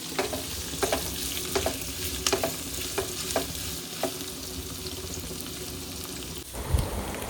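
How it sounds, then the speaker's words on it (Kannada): Onions frying in oil in a pan while making chicken chops, a steady crackling sizzle with repeated stirring scrapes and clinks throughout, close and fairly loud, no voices. "ಈರುಳ್ಳಿ ಚೆನ್ನಾಗಿ ಫ್ರೈ ಆಗೋವರೆಗೂ ಫ್ರೈ ಮಾಡ್ಕೊಳ್ಳಿ"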